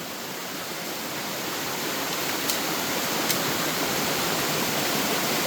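Steady, loud rush of running water pouring out from above, a dense continuous wash with no pauses and no voices over the full length.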